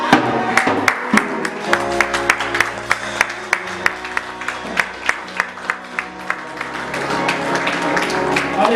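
A church congregation clapping in a steady rhythmic beat while acclaiming the Lord, loud and close, with sung or chanted voices and music tones carrying over the claps.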